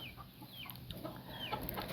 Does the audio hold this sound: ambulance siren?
no